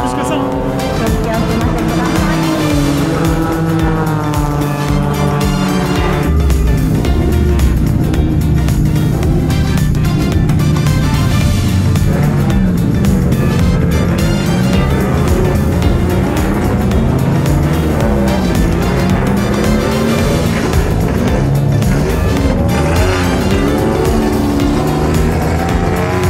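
Turbo and modified race cars roar continuously around a Japanese circuit during a morning session, loud engines droning and shifting pitch as they pass, with a voice talking over the noise.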